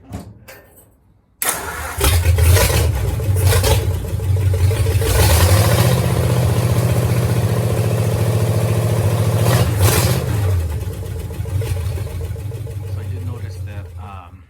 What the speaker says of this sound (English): Let's fire it up one more time.